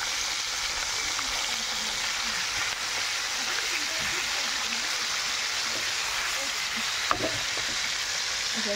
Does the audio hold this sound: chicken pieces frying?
yes